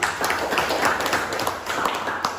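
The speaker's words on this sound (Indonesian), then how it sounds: "Oke, tepuk tangannya untuk Fikri" A classroom of students clapping for a classmate named Fikri, a dense, steady patter of hand claps lasting a couple of seconds with no talking over it.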